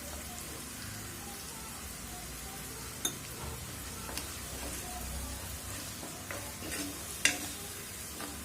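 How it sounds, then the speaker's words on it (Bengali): Onion paste frying and being stirred in a pan for a chicken roast, a steady soft sizzle with a few sharp clinks of a utensil against the pan. "আমি এখন পেঁয়াজ বাটাটা দিয়ে দিচ্ছি। এখানে 2 টেবিল চামচ দিব পেঁয়াজ বাটা।"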